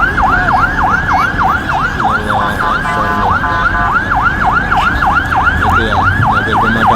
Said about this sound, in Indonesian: Itu ya, mobil pemadam kebakaran tuh ya.